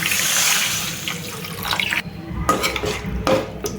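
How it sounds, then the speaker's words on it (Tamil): Water splashes and gushes into a pan in a few surging bursts, with light clinks of metal cookware nearby. "இப்போ கொஞ்சமாக தண்ணி ஊற்றிக்கலாம்"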